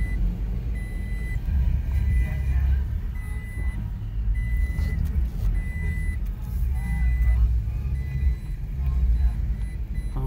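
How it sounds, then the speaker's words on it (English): A truck reversing on a nighttime forest road in Arizona gives out repeated warning beeps over a steady low engine rumble. "apologize for the beeping."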